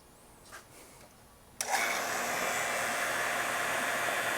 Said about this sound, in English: turn the vacuum pump on